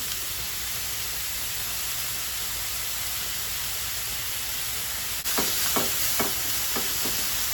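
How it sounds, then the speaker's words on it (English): Ground beef with chopped onion, salt and pepper frying in a pan: a steady broadband sizzle fills the clip, joined near the end by a few sharp scraping stirs of a utensil against the pan. "We'll fry this up till it's, good, well done, maybe 7 minutes"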